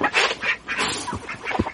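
Cooped-up chickens, eager to get out to free range, squawk and cluck in a few quick, close bursts.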